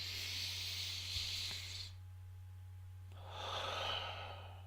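Two long, soft breaths close to the ear, a slow inhale then an exhale after a short pause, airy and hissing over a steady low hum, with no talking.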